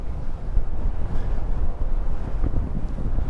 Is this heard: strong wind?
yes